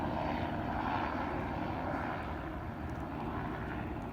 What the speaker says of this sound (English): now that the helicopter's passed